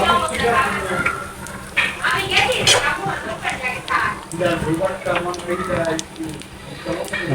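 Garlic, chopped onion and three dried red chilies frying in mustard oil in a pan, giving a steady close sizzle and crackle throughout, with a person talking over it.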